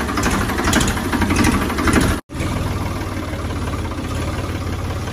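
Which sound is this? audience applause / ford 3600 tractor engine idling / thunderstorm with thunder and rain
ford 3600 tractor engine idling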